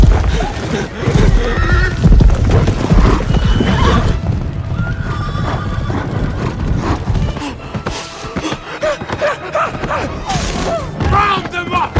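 Horse neighs and whinnies over rapid galloping hooves in a chaotic hunting scene where apes pursue humans, with loud shouting voices mixed throughout.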